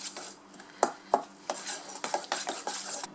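A spoon scrapes and clinks in a bowl, mixing gluten-free focaccia dry ingredients with psyllium husk. The strokes are soft and irregular, with a few sharper taps against the bowl, close and quiet, with no talking.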